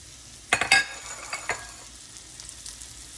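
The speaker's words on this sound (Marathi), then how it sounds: "यात आपण ऑलिव्ह ऑइल घालणार आहोत थोडंसं. जास्त नाही घालायचंय. आणि हे जे मशरूम आहेत ते आपण आता यात घालणार आहोत." Mushrooms hit hot olive oil in a pan with a sudden loud sizzle that crackles sharply at first, then settles into a steady, quieter frying hiss.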